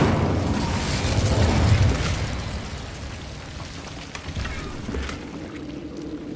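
An Incendio fire spell cast in Hogwarts Legacy, a soft whooshing burst of flame with a low rumbling boom that swells and then fades into a quieter crackle.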